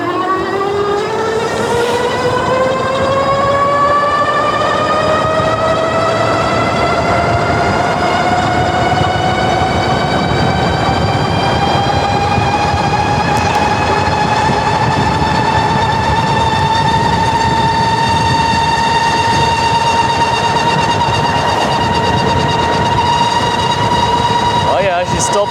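Luckeep M5 Max electric bike riding on the street, its 1500 watt rear hub motor giving a loud, steady whine that rises in pitch as it speeds up, then holds high over wind rumble.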